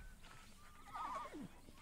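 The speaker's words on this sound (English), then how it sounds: "let's feed old horsey" A horse in Red Dead Redemption 2, being fed and brushed, gives a single short whinny that rises and falls midway. It is quiet and set over faint background ambience.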